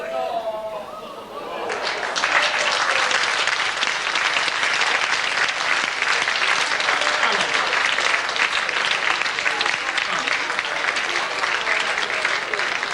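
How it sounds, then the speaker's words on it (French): A French television studio audience breaks into loud, continuous applause after a magician's quick trick with a volunteer, the clapping starting abruptly after a brief murmur and holding steady and dense throughout. "Applaudissements, monsieur."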